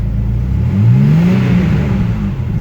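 Engine of a Lamborghini Countach replica revs up close, its deep note climbing in pitch through the middle of a short burst and then holding a loud, steady roar.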